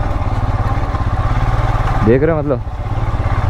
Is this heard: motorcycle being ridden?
yes